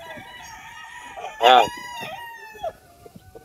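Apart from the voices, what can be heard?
roosters crowing at a game farm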